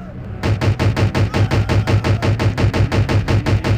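Gunfire in an SCP video game: a fast, loud, evenly spaced burst of roughly twenty shots starts after a brief pause and continues like a machine gun to the end.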